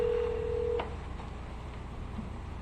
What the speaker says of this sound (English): Just let it ring. It'll go right to voicemail.